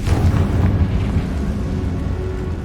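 A Confringo blasting spell explodes in the Hogwarts Legacy game, a deep rumbling boom that rolls on steadily at high volume, heavy in the low end, with no talk over it.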